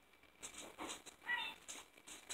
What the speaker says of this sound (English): we just got a new kitty